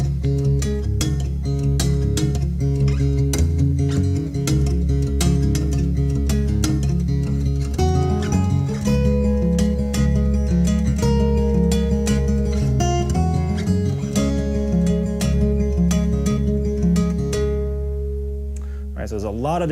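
Acoustic guitar melody played slowly, with intricate left-hand work and palm-muted bass notes. It is a steady, close, solo performance with dense picked notes, and it rings out at the end.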